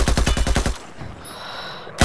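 An M240B machine gun fitted with a compensator fires a fast full-auto burst in a video game, about eight loud rapid shots followed by a ringing echo tail and a brief clink at the end.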